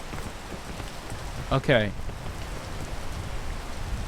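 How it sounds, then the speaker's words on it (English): Rain falls in the video game PEAK as a steady, even hiss throughout, with a short spoken word briefly rising above it midway. "I need to wait for the rain to clear, though."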